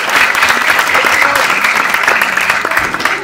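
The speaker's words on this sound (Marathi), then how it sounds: "तेव्हा यांच्याकरता जोरदार टाळ्या यांच्या सातत्याकरता" A theatre audience at a youth drama festival gives loud, sustained applause to a local village troupe, a dense continuous clapping close by, with some voices mixed in.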